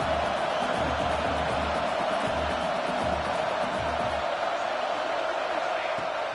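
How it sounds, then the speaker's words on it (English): Stadium crowd at a football game roars in a dense, continuous wash of cheering and noise that stays loud and steady throughout, with a low rumble underneath. "this crowd is turning it up a notch"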